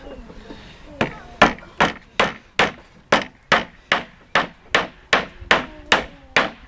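Nails hammered into wooden pallets while building a dacha outhouse, with about fifteen loud, sharp, evenly spaced close blows in a steady rhythm.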